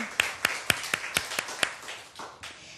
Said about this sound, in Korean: 박수 한번 올려드리겠습니다